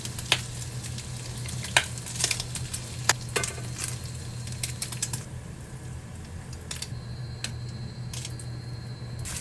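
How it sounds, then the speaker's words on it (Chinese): A bagel fries in rendered bacon fat until crispy, giving a steady close sizzle broken by sharp crackles and pops, with no voices. "最后选了杯果当基底，佐以培根炼化的油脂煎至酥脆"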